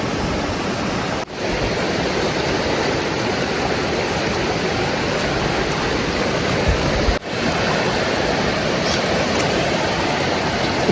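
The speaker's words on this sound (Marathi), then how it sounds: "पाणी बघा कसला होतोय बापरे" Loud, continuous rush of turbulent water fills the scene, a steady broadband roar close by with two brief dips, and no voices.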